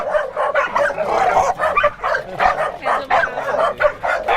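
Several dogs barking and yipping in quick, repeated bursts, close and loud, with occasional whimpers; the dogs are at a kennel that keeps Belgian Malinois and poodles.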